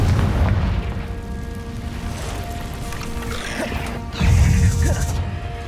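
A Confringo blast spell cast in Hogwarts Legacy erupts as a loud, low boom near the end, with another burst at the opening over a steady rumble of combat noise.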